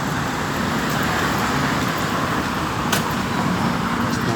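Road traffic hums at a roadside bus stop near Q-Mart in the Philippines on a rainy day, a steady dense drone of passing vehicles and buses with one brief sharper sound midway, no talking.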